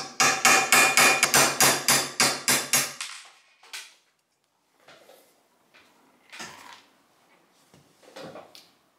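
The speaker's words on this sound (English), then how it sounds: "I can start drifting it out. I'm going to use a 200 gram hammer for this operation." Steel hammer, 200 grams, striking a roll pin punch to drift a roll pin out of a Sturmgewehr 57 / SIG SG 510 rifle sight: a rapid run of about a dozen sharp, close metallic taps, then quieter scattered clinks and handling sounds.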